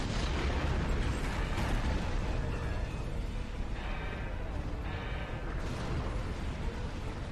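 Detonating charges in a Star Trek video game set off a series of heavy, rumbling explosions with bursts and mechanical clatter, loud and continuous throughout.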